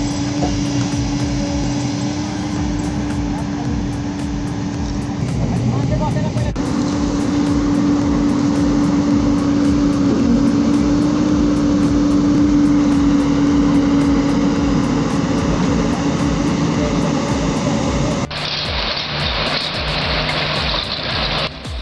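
A bulldozer hauls an overturned tractor off a steep slope in Baglung Balewa, its engine holding a loud, steady drone with a strong low hum throughout, dipping and shifting in pitch as the load and throttle change.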